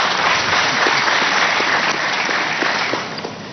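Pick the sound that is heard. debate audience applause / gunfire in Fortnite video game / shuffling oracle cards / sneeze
debate audience applause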